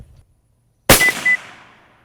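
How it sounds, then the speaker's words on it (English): A single rifle shot is fired down range while zeroing a Zeiss Conquest V4 scope: one sharp, loud crack after near silence, followed by a decaying echo and a faint ringing tone. "Let's go ahead and at least get one more shot down range."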